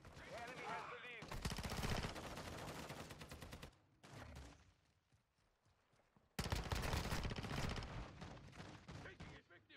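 Rapid automatic gunfire bursts in Call of Duty MWII on the Shipment map with a P90, loud close volleys broken by a short lull.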